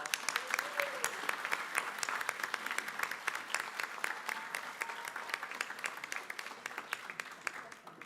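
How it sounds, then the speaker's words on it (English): Audience applause for kindergartners after their singing at a school board meeting, steady dense clapping lasting the whole stretch at moderate volume with no speech over it. "Let's give them one more round of applause."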